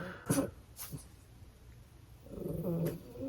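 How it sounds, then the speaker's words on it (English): A small dog lets out two short, sharp barks close by, followed a moment later by a longer, louder yap. "are you barking at me in the camera?"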